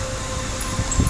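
Spot-free rinse spraying at an automatic car wash, heard from inside the car as a steady, loud broadband rush of water with a low rumble underneath.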